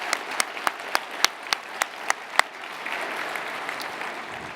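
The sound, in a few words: applause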